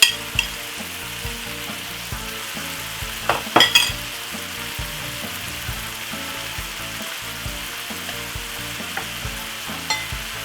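Two tins of tuna frying in a pan with coarse pepper, a steady sizzle broken by scraping stirs and a few sharper clatters of the utensil against the pan, close and moderately loud.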